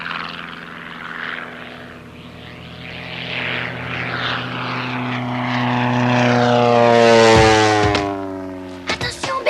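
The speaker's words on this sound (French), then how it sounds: "Est-ce que l'avion est reparti?" A propeller airplane passes overhead, its droning engine growing louder and rising in pitch as it approaches, then ending in a few sharp clicks; no one speaks.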